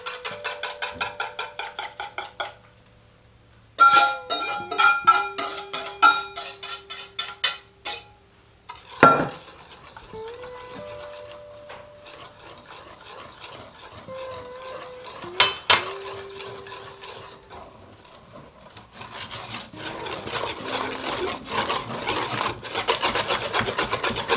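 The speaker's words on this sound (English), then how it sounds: "I'm going to add my liquids here to my dry ingredients" Liquid ingredients being mixed into dry ingredients for chocolate muffins, with repeated scraping and stirring strokes in a bowl, uneven rhythm, occasional knocks and pauses, close and fairly quiet without talk.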